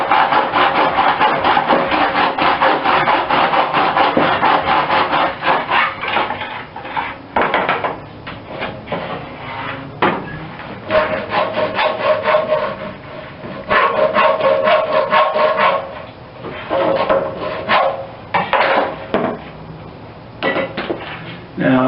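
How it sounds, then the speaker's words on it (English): A hand saw cuts through PVC pipe in rhythmic rasping strokes, loud and close, with short pauses between bursts of sawing. "it's not as stressful to try to cut this PVC pipe with this saw"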